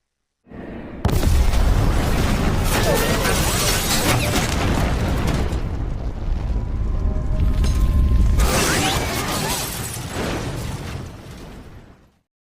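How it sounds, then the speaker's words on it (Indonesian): A huge car bomb explosion erupts suddenly and roars on with rumbling, crackling debris for several seconds, then a second surge before slowly fading out. "tiba-tiba bom di dalam mobil Andres meledak."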